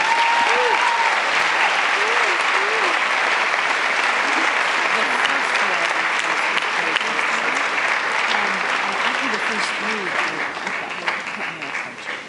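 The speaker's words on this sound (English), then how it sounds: "Please give them a round of applause." Sundance Film Festival audience at a shorts program Q&A gives a long, loud round of applause for the filmmakers, steady dense clapping throughout, with faint voices murmuring underneath.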